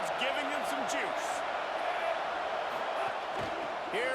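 A stadium crowd roars continuously at a college football game between SMU and FSU as the defense is backed up at the goal line, a dense sustained cheer with a commentator talking over it.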